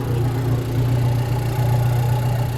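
A 2015 Alfa Romeo 4C Launch Edition idles close by, its mid-engine giving a loud, steady low hum with a faint rhythmic pulse and no talk over it.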